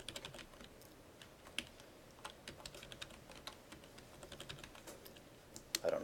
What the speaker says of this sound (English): I don't know why I'm typing so many dots.